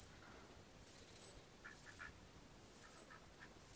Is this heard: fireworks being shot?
no